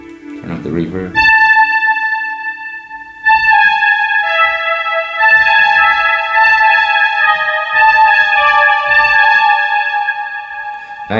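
An Arturia Astrolab synthesizer plays sustained chord tones washed in heavy reverb, layered notes ringing and overlapping continuously, with a short spoken phrase at the start and faint talk beneath.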